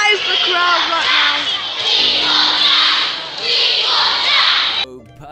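A video-game crowd shouts in a loud, continuous roar of many voices, with whoops and cries, filling the scene until it cuts off abruptly near the end.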